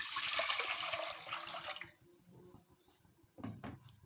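About a litre of water gushes steadily into a cooking pot (degchi) sitting on a lit stove, the rush fading after two seconds, followed by a few splashes and trickles.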